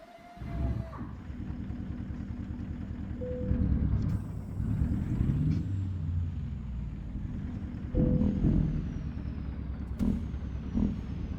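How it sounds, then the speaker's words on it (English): A custom Peterbilt truck engine in American Truck Simulator fires up with a sharp air-start hiss, then settles into a steady low diesel rumble with a few louder surges and bursts of air. "that air start is really cool on this engine."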